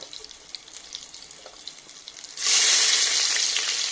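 Green chillies fry in hot oil in a pan for chicken biryani: a soft, low crackle first, then a loud, steady, close sizzle that swells suddenly and holds to the end.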